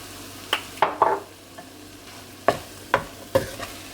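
Cabbage and egg stir-fried over high heat in a pan, a soft continuous sizzle punctuated by six or seven sharp scraping tosses of a spatula at irregular intervals.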